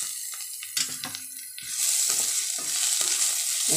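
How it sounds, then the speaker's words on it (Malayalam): Garlic frying in a pan, heard close up as intermittent scraping stirs at first, then a louder, steady sizzle filling the rest of the short stretch. "വെളുത്തുള്ളി ഇട്ട് കൊടുത്തിട്ടുണ്ട്."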